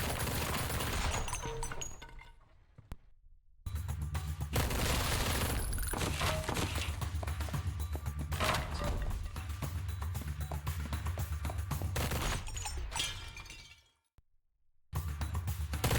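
Rapid bursts of automatic gunfire from a gun turret in the video game Mr. Shifty, dense and loud, broken by two short silent gaps, with crashing impacts and shattering debris mixed in.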